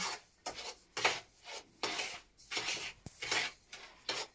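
Sugar being rubbed together with egg yolks in a bowl for Easter paska dough, a rhythmic series of gritty scraping strokes with a spoon, close and steady, with no talking.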